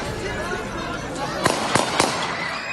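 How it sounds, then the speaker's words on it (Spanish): Three sharp gunshots ring out in quick succession during a crowd fight, over a noisy crowd murmur, somewhat distant. "una de las personas que estaban dentro de esta pelea disparó en al menos 2 ocasiones"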